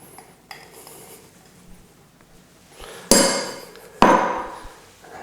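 Flour being sifted by tapping a sieve for a chocolate hazelnut cake: two sharp metallic taps close together near the end, each ringing out briefly over faint rustle, with no talking.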